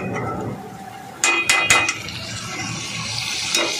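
Home-ground masala, salt, turmeric and a ground paste being stirred together in a pan for a bangda (mackerel) dish, with a soft sizzle underneath and several brief metallic clanks and scrapes of the spoon against the pan.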